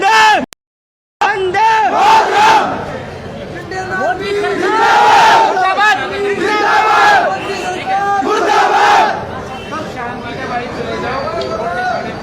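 A crowd of young protesters chants and shouts in loud, rhythmic waves at a street demonstration, voices rising together in repeated bursts after a brief silent gap at the start.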